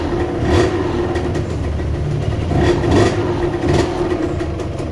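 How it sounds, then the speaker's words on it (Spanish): A Kawasaki KMX 125 motorcycle engine runs close and loud, its idle swelling into a few rhythmic revs at regular intervals, with no one speaking. "tenía mis años que no escuchaba un motor de Kawasaki KMX 125"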